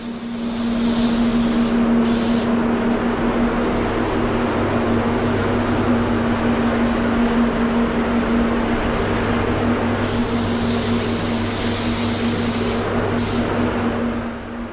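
A paint spray gun hisses continuously at 2 bar while laying down a first coat, a loud, steady airy rush with a constant tonal hum, briefly interrupted in the first seconds.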